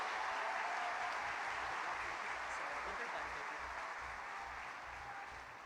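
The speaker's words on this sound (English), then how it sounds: "Let's give a round of applause" Crowd applause at a coronation ceremony for a King of Engineers, a steady dense wash of clapping that stays loud throughout and tapers slightly near the end.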